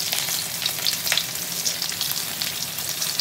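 Besan-coated pieces fry in hot oil with a steady, close crackling sizzle and soft bubbling, continuous and even with no voices.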